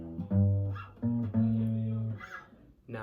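Guitar riff from the second part of a song, a few plucked, ringing notes in short phrases with pauses between, played fairly close and alone without talk.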